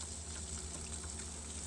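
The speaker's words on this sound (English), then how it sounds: "Okay, so we got water coming out." Water runs from a camp water pump line in a faint, steady, continuous flow with a soft trickling hiss and no talk.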